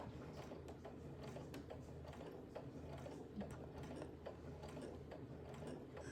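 A Brother Innovis F410 sewing machine stitching through fabric, a quiet, steady rapid mechanical whir and clatter of the needle mechanism running continuously, close by, without speech.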